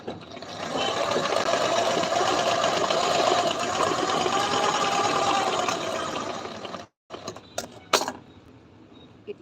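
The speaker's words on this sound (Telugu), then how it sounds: "ఇంకా ఇట్లా కుట్టుకోవాలి దీన్ని" A sewing machine stitches a boat neck blouse in a steady, continuous mechanical run that stops abruptly near the end, followed by a few sharp clicks and handling knocks.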